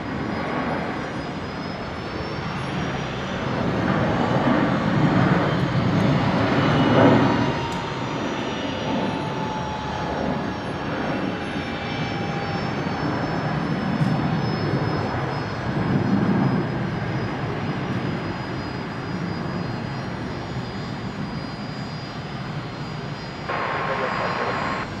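A Velocity airliner departs Brisbane airport, its jet engines roaring steadily at a distance with a rising and falling swell and a faint whine, continuous and fairly loud for the whole span.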